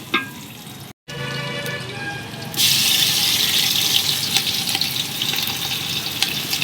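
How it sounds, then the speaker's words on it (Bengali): Ginger paste goes into hot oil with browned onions, and a quiet background jumps into a bright, dense sizzle that holds steady to the end. "আদা বাটাটাকে দিয়েও একটু তেলের সঙ্গে ভেজে নেব।"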